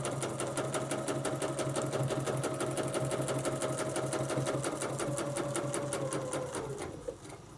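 A sewing machine, set up with Westalee Sew Steady gear, stitches at a steady, rapid rhythm, loud and close. A continuous mechanical whir runs throughout and eases off right at the end.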